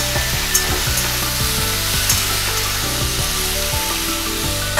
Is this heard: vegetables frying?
yes